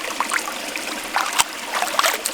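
Cold, clean stream water trickles and burbles close by, with small irregular splashes and dribbles and a sharp tap partway through; no one speaks.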